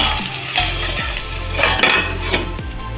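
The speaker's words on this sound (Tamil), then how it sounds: "நம்ம கரண்டி வச்சு வெண்டைக்காய் கலக்கலாம்" Okra fries in a pan while a ladle stirs it, a steady sizzle broken by repeated scraping knocks of the ladle against the metal, close and fairly loud.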